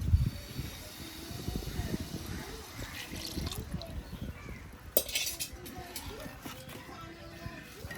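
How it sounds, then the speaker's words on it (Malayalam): Second coconut milk being poured into jaggery semiya payasam, a faint liquid trickle mixed with scattered clinks of spoon against pot, with a louder clatter about midway. "അപ്പൊ അമ്മ 2-ാം പാല് ഒഴിച്ചു കൊടുക്കും."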